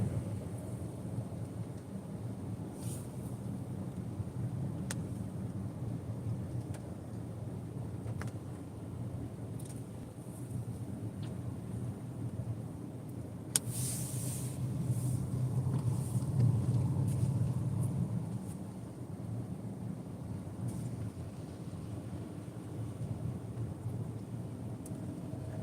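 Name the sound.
rain in a park street with passing cars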